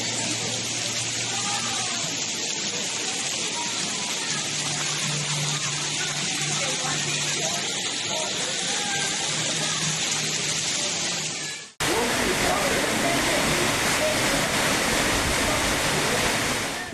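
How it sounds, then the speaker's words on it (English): Floodwater from a massive storm rushing through low-lying streets in Margate, KwaZulu-Natal, South Africa: a loud, continuous roar of churning water that cuts abruptly near the end to an even harsher, louder rushing wash. "Low-lying roads and thoroughfares were transformed into flows of moving water"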